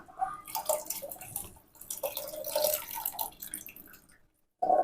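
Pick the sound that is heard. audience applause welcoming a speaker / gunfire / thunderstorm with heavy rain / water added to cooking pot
water added to cooking pot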